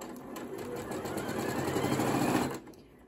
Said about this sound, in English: So again, I press start. And it will immediately start stitching.